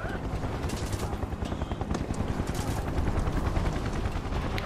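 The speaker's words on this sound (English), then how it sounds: "That helicopter's gonna cause problems." A helicopter and gunfire in the video game Final Fantasy 7 Remake form a dense, loud, continuous din, with rotor thumping under rapid bursts of shots throughout.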